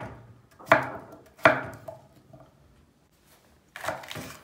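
A knife chops potatoes and vegetables into chunky pieces on a board, giving two sharp close thuds followed by a pause and a softer cluster of cuts.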